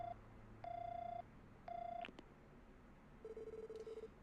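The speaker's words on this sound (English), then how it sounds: "I'll give their number a call and see if they pick up." Telephone in the video game Trails From Zero: a short burst of dial tones, then ringback tones repeating in two clear pulses, followed by a quick rapid tone series at the end, over a low quiet hum.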